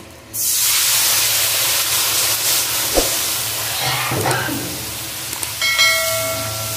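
Water hits a hot pan of morola fish sour curry with a sudden loud, steamy hiss that keeps sizzling steadily, with a couple of faint clinks of stirring near the end.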